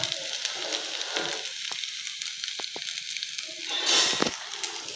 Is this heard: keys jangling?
no